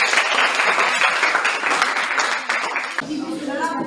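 Applause from a classroom audience, a dense steady patter of many hands clapping that carries on throughout and thins slightly near the end.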